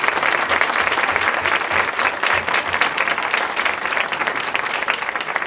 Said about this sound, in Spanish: aplausos para la carrera de enfermería